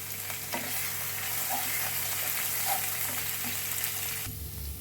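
Curry leaves hitting hot oil for mirchi vada, producing a continuous bright crackling sizzle with some stirring. The sound is close and steady and cuts off abruptly near the end, with no speech.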